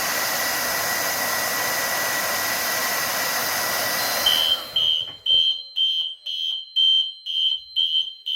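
Fire alarm set off by a heat detector test, beginning as a loud continuous broadband blare, then shifting to a piercing high-pitched electronic tone pulsing in regular on-off bursts, close and loud.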